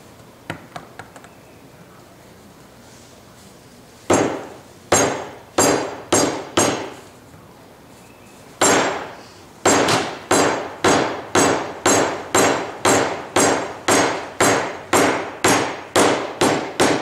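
A few light taps, then loud metallic hammer blows, first spaced apart, then a steady rapid series of strikes press-fitting bearings into holes for a forge blower.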